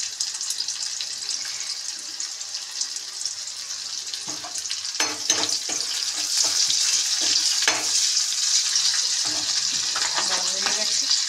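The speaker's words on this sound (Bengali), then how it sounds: "এই কড়াইতে দিয়ে দিলাম মাছের তেল" Fish fat sizzles and spits in a hot kadai with a steady hiss that grows louder midway, broken by scraping and clatter as it is stirred, with no talk.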